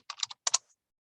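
Brief keyboard typing on a computer keyboard while entering a search, two quick bursts of a few close keystrokes each, then silence.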